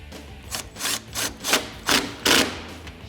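A headlight bolt on a 2015-2022 Ford Mustang is tightened with a 10mm socket ratchet. Five or six rasping, scraping strokes repeat steadily and grow louder, close up with no voices.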